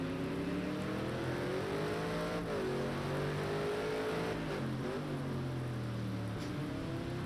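A loud front-mounted 6-litre V8 with straight pipes in a 1998 GT race car in Project CARS 2 at Laguna Seca drones steadily, its pitch rising and falling as it revs through gear changes, with no voices over it.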